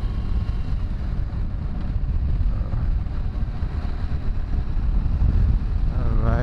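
A motorcycle cruises on the ride home, its low engine drone steady beneath heavy, buffeting wind rush over the microphone throughout.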